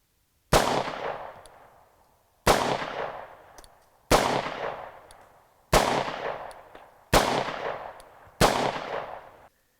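Six loud, sharp pistol shots from a Mauser C96 Broomhandle, each followed by a decaying echo, spaced evenly about a second and a half apart with silence between.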